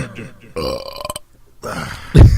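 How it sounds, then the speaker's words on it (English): A loud, low burp bursts out near the end after bits of casual talk between people on a podcast, sitting close and heavy over the earlier voices. "the burp is very, very professional"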